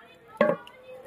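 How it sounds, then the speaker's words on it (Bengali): A lid set onto a cooking pot while tangra fish simmers with kohlrabi: a single short metallic clank with a brief ringing tail, otherwise quiet. "এবার আমি ঢাকা দিয়ে দেবো।"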